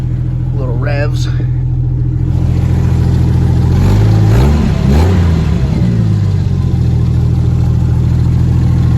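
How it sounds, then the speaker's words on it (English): A loud, rough Jeep Wrangler YJ engine with the muffler removed idles, then revs up in a few throaty bursts before settling back to a rumbling idle. "I'll give it a little revs."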